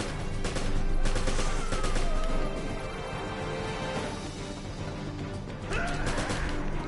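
Dense, continuous gunfire from the video game Resident Evil 5, with rapid shots and crashing impacts layered into a loud, busy mix with no clear pauses.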